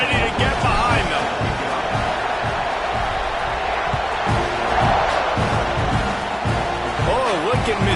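A college football video game stadium crowd before kickoff, a dense roar of cheering and whooping that fills the whole stretch, steady and loud, with a commentator talking over it throughout.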